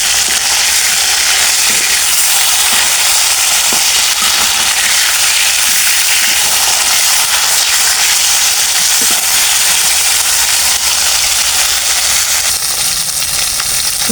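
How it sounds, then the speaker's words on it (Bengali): Tilapia pieces frying in oil in a wok, giving a dense, continuous sizzling hiss with faint spatters and small clicks, loud and close for the whole stretch with no one talking. "মাছ ভাজে এক পাশ হয়ে গেছে"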